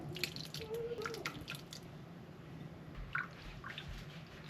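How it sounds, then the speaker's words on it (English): Blueberry juice drips through a cheesecloth strainer in quiet, irregular plinks and soft trickles, close but faint, with faint background sounds in a kitchen. "Now I'm going to strain them out through my cheesecloth and reserve all that juice."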